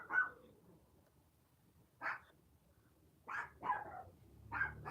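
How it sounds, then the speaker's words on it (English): A dog barks several times at a moderate distance, single sharp barks separated by pauses of quiet. "my dog is barking"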